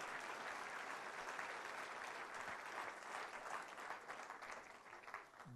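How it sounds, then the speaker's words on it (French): A church congregation applauds in a steady, even wash of many hands clapping, faint and distant, continuing throughout with no talk above it. "Donnez une main d'applaudissement au Seigneur si vous le croyez"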